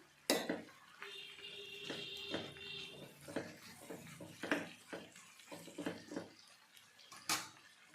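A spoon stirs a pot of leafy greens and meat with ginger and garlic, making quiet metallic clinks and scrapes against the pot, with soft irregular knocks spread over the moment.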